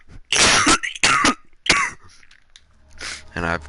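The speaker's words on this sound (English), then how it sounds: "And I have very bad coughing" A person coughs hard three times in quick succession, close and loud, then after a short pause gives another rougher cough before briefly starting to speak.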